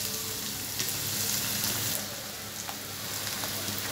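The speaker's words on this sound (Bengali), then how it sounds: "এবার পেঁয়াজটা দিয়ে দিলাম, কাঁচা লঙ্কাটা দিয়ে দিলাম।" Chopped onion and green chili hitting hot oil in a pan, a continuous close sizzle and crackle of frying with a few small pops, no voices.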